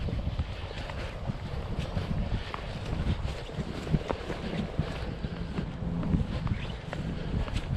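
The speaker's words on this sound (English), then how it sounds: "the wind's picking up a wee bit." Wind gusting along the banks of the river Tay, a steady broadband rush with buffeting on the microphone and faint water movement underneath, constant and fairly loud with no voices.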